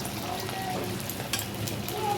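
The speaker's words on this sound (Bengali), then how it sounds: "তো দেখো এবার আমি পকোড়াগুলো ভেজে নিচ্ছি, একের পর এক দিতে থাকবো।" Pakoras fry in white oil in a wok, giving a constant close sizzle and fine crackling bubbling throughout with no clear talk.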